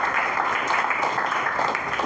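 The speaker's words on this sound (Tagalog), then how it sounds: "pwede po ba ng malakas na palakpak" A church congregation applauds loudly for the Lord, a dense, steady burst of clapping filling the short moment.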